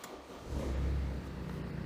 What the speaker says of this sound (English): it's time for the very first startup with the custom exhaust system